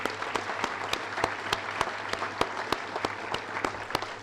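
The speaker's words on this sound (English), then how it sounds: "Another round of applause," An audience claps at a Veterans Day program, a thin, fairly soft patter of hands with sharp individual claps standing out at a regular beat, continuous from start to end.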